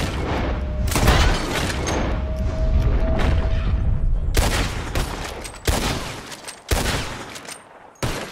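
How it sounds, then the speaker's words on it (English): Gunfire from a drawn revolver shooting bottles in the video game Red Dead Redemption 2: a loud, dense burst of rapid shots for about five seconds, then a few sharp separate shots with ringing tails. "Who can shoot the most bottles? Just draw your gun and aim when you're ready"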